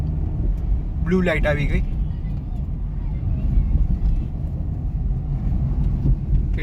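A 2017 Honda City V sedan with a naturally aspirated i-VTEC petrol engine accelerates, its engine a steady low rumble mixed with road and wind noise beneath someone talking.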